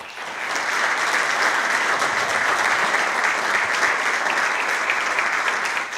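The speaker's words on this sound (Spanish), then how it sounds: "Así que recibimos a ambos con un fuerte aplauso." A conference audience gives steady, dense applause that swells quickly and holds at an even level throughout, welcoming two speakers to a lecture on Hispanic archetypes in the Río de la Plata.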